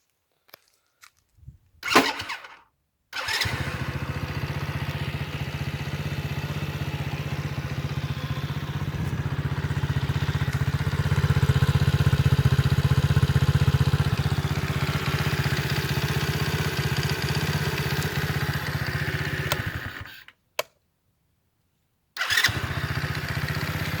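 A motorcycle fires up after a few short cranking bursts, then idles steadily with a rise in revs midway. It cuts off briefly near the end and restarts, all fairly close and with no talk.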